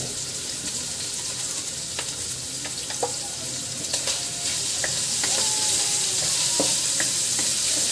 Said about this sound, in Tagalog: Igisa lang po yung taba hanggang mag-brown ng konti.